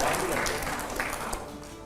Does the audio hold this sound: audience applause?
yes